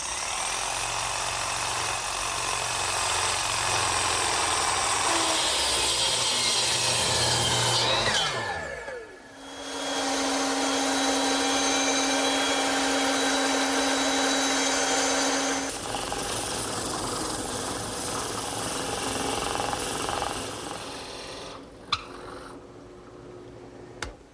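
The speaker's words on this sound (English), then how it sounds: "Now I'm going to clamp it in my bench vise and cut out the rest of the inside with the jigsaw." A jigsaw cuts out an oak wagon handle clamped in a bench vise, a loud, continuous buzzing rasp that briefly drops and restarts, then runs on with shifting pitch before a few closing knocks.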